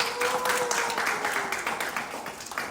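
A crowd claps steadily for a few seconds, a dense patter of many hands, with a faint tone lingering underneath.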